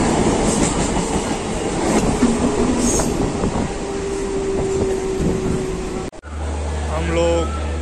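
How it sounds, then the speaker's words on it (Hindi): A Mumbai local train runs between Dadar and Bandra, heard from inside as a loud, steady rumble with clattering wheels and a squeal, ending in an abrupt cut to a different low hum, with voices in the background. "हम बॉम्बे पहुंच गए हैं और लोकल ट्रेन से दादर से बांद्रा जा रहे हैं हम लोग"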